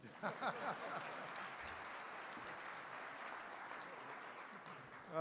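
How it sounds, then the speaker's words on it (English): Dinner-event audience clapping for an admiral from the White House, a faint, distant wash of steady applause with a brief voice near the start. "It's okay to clap for him."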